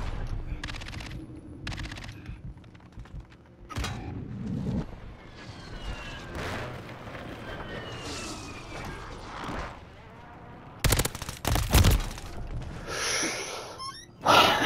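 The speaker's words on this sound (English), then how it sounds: "hostile airstrike near your location" Airstrike explosions rumble and crack through a first-person shooter match amid scattered gunfire, with a sharp cluster of loud blasts late on and game noise throughout.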